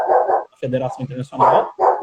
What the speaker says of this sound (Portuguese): E tem um cachorro latindo aqui.